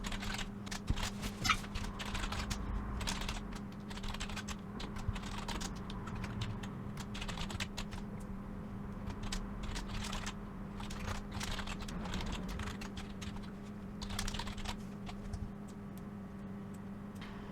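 Text is typed on a computer keyboard, a long run of quick, irregular key clicks with brief pauses, close and clear over a steady low hum.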